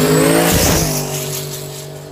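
Drag racing at a heads-up drag-and-drive event, a Fox Body Mustang against a wagon: a loud, close engine roar with revving that sweeps past and then fades slightly.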